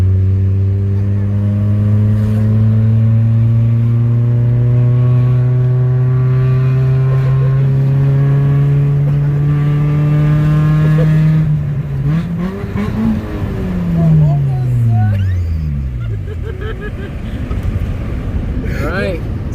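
A 1995 Honda Civic with a 114 hp engine and newly installed hood pins pulls away, its engine note climbing steadily through a gear and then dropping and swelling again on a shift, loud and close from inside the car, with a voice talking over it.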